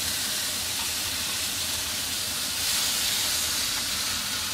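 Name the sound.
crab pan-frying in a hot pan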